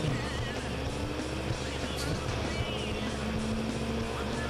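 A car engine from the racing video game FlatOut drones steadily and fairly loud, its pitch wavering slightly through the stretch. No voice is heard over it.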